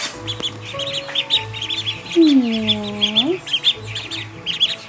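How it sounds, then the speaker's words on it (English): Buff and Cayuga ducklings in a brooder give a run of high, thin peeps and cheeps throughout, close and fairly busy, while a person speaks softly nearby. "So we've got the four buff ducklings."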